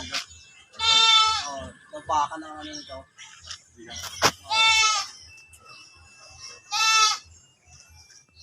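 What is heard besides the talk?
goat bleating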